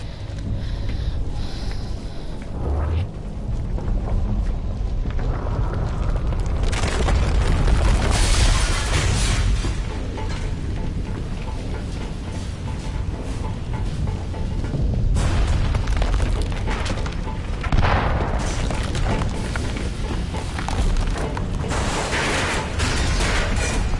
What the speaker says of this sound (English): I just hate that the grenades take so long to detonate.